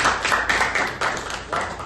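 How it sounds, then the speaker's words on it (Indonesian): A class clapping for a student, a loud, close cluster of hands clapping in a few uneven bursts of rhythmic claps, with no talking. "Tepuk tangan untuk Alan."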